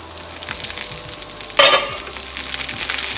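Paneer tikka frying on a tawa, a steady close sizzle of oil with a sudden louder hiss flaring up partway through, then continuing crackle alone.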